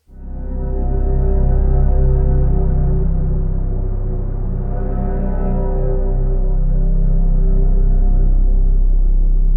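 A dark, ominous sci-fi synth pad drone from the Zebra HZ software synthesizer, with heavy low rumble and layered harmonics, swells in and sustains, slowly shifting in tone.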